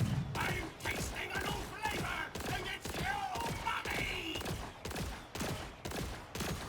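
An Order assault rifle fires in Borderlands 4 in rapid, evenly spaced bursts of loud, punchy shots. The shots run steadily through the whole stretch, with only brief gaps between bursts.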